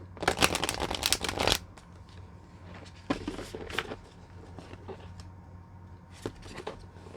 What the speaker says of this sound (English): Just gonna shuffle this.